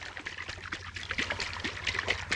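Water sloshing inside a dry-looking coconut being shaken outdoors, a soft, continuous liquid swishing and trickling, fairly faint, with light rustling and no talk.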